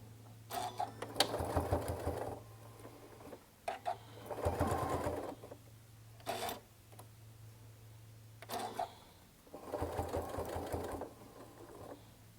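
A sewing machine stitches a zipper bag in several loud bursts of rapid running, separated by short pauses and brief clicks as the fabric is pivoted at the seam, with a steady low motor hum underneath.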